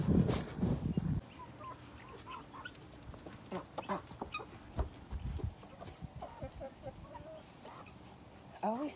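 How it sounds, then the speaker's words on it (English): Backyard homestead chickens cluck in short scattered bursts, fairly close, with a louder clucking run at the start and insects chirping softly behind. "I always think that this bird right here, it's a chicken."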